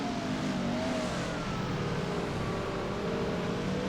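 NRSL AC Delco Heartland 175 race trucks in the Advocare Truck Series, with a Chevrolet among them, taking a turn: a steady roar of racing engines revving through the corner, fairly distant, with no voices.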